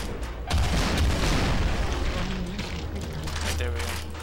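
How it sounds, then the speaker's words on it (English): Rocket launcher blasts in Brutal Doom, heavy booming explosions rolling through a loud, dense stretch of game combat with low rumbling impacts and scattered crashes. "Rocket launcher feels a bit underpowered to me in this version."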